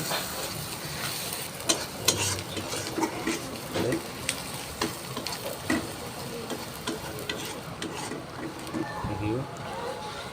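Onions frying in hot oil for a country chicken curry, a continuous close sizzle with scattered stirring clinks and scrapes throughout.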